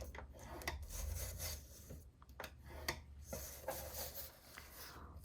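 Paper being scored on a scoring board for a planner cover, with close, quiet scraping strokes in uneven bursts and short pauses, some sharper rubs and taps between them, and no talking.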